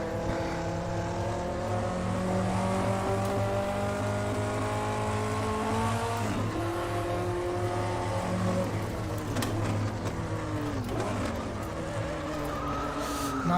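A 1958 Formula 1 car engine in the Automobilista racing sim, screaming at high revs without a break, its harmonic pitch climbing and dropping sharply through gear changes, loud and close throughout.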